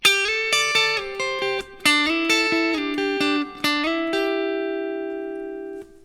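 A clean electric guitar picks a quick soul-style run of single notes, playing a double stop's notes separately, then lets a final pair ring and fade out, close and clear.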